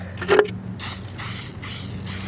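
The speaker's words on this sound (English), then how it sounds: "spray the sides," Several short hissing bursts of a spray can of oil coating a mould for concrete weight plates, close by, separated by brief pauses over a low background hum.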